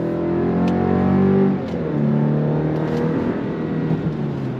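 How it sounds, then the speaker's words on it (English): A 2025 Chevy Colorado Z71 mid-size pickup accelerates hard on throttle in rear-wheel drive through snow. The engine note swells steadily and loud, then drops briefly and climbs again as the truck keeps pulling. "We're gonna go on throttle. On throttle, here we go."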